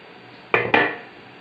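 Two quick metallic clanks of a steamer pot being handled, close and loud in a quiet kitchen, the second knock ringing out briefly.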